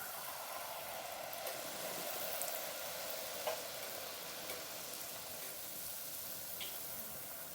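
Funnel cake batter fries in hot oil with a steady, dense hiss and crackle that holds evenly throughout, with a few small pops rising above it.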